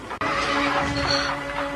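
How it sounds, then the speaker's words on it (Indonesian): A horse whinnies loudly and close, followed by steady sound of a horse-drawn carriage approaching, with a sustained tonal hum underneath; no talking. "Aku melihat sebuah kereta kuda mendekat kemari."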